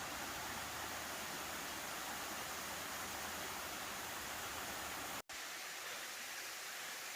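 Waterfall cascading beside a steep stone-stepped hiking trail up a mountain, a loud, steady broadband rush filling the whole clip, with one abrupt brief dropout near the end.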